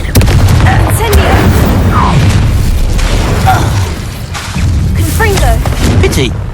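Confringo fire spell explosions and Incendio casts in Hogwarts Legacy, loud continuous blasts and crackling fire mixed with combat effects, while a voice shouts spell incantations over the noise.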